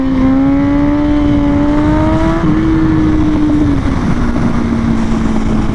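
A 1000cc motorcycle in second gear holds a steady mid-range rev, its loud, close engine drone sitting at a constant pitch that wavers briefly midway before settling slightly lower.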